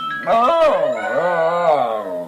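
A dog makes a drawn-out, wavering howl and whine, rising and falling in pitch like talking. The sound is loud and close and carries on for about two seconds.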